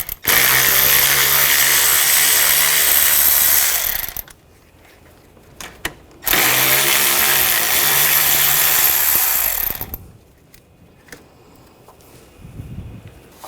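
A power tool with a 10mm socket removes bolts from the radiator and condenser fan assembly on a 2014-2020 Nissan Rogue, two loud, close, buzzing ratchety bursts of about four seconds each, separated by quiet handling.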